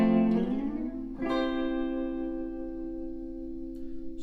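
An electric guitar plays a sliding chord figure from a surf-rock tune, a chord sliding up the neck and then ringing out with sustained, slowly fading notes, played alone.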